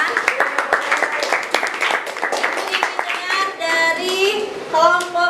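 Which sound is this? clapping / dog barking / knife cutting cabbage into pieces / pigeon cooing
clapping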